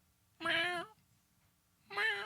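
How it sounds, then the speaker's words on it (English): A cat meows twice, close and clear, with the two drawn-out calls spaced about a second and a half apart in a quiet room. "The official cat of the 64-Bit Legends."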